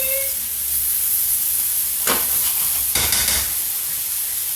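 Mushrooms frying in a non-stick pan for tomato basil pasta, giving a steady close sizzling hiss with a couple of brief louder bursts, likely from stirring or moving them around.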